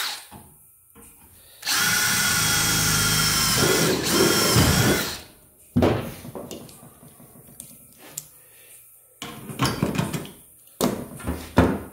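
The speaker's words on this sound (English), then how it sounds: "And I'll drill 2 spots there now." A power drill bores two spots into a car body panel during rust repair around a window. One long, loud, close burst of whining drilling is followed by scattered clanks and handling noises.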